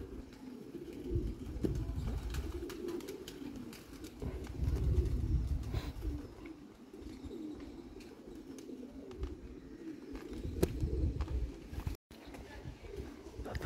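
Pigeons kept in a loft, with soft cooing and scattered fluttering and shuffling at moderate distance, running steadily under a low background rumble with occasional sharper clicks.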